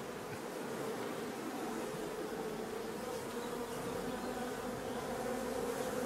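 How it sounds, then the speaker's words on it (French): Honeybees buzz inside a beehive, a dense, unbroken drone heard close and steady throughout, with no voices. "il y a quand même des abeilles dedans"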